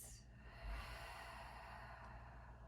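A long, deep exhale released during a yoga session, a steady breathy rush lasting a couple of seconds, close and soft with no talking.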